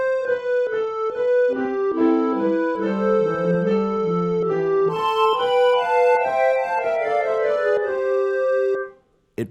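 Several overlapping melodic lines move together in close harmony as stretto voices in parallel thirds, entering one after another, clear and sustained before fading out at the end.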